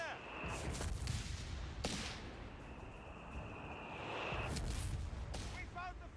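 Bursts of machine-gun fire and battlefield blasts from a Company of Heroes 3 match fill the mix loudly and continuously, with a commentator's voice talking over them.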